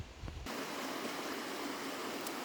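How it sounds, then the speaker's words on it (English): A quiet creek barely trickling down a rocky ravine, its soft steady wash of water over stones continuous and fairly close, with no voices. "quiet, hardly trickling bit of creek that comes down this great rockway"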